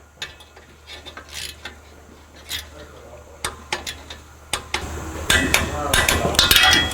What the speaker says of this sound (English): I torqued all the bolts.